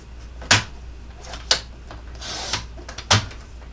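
Embossed vellum being cut on a paper trimmer, with three sharp blade clicks spread across the clip and a soft sliding rasp between them, close and fairly quiet, with no talking.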